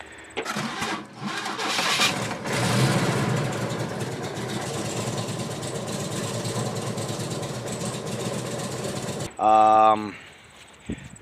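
A worn Chevrolet S10 pickup's 2.8 engine with a bad knock runs loudly and steadily for several seconds, cuts off abruptly, and then a short harmonic whine follows.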